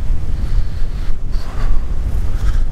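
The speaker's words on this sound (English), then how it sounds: "It's pretty windy though. I don't know if you can hear it on the mic, but it's pretty windy." Strong wind gusts roar across a campsite with a car and tarp shelter, buffeting the microphone in loud, uneven surges with no voices.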